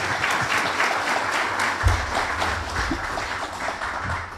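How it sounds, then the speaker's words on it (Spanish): An audience at the presentation of a constitutional and administrative law manual applauds, a steady, moderately loud patter of many hands clapping with a low thump partway through. "para el que pido un aplauso"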